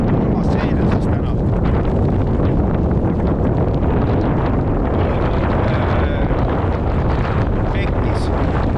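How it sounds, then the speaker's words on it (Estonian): Strong easterly wind roaring across open sea on a coastal shore, a loud, continuous broadband rush buffeting the microphone with gusts throughout, no other sounds standing out. "Puhub väga tugev idakaare tuul."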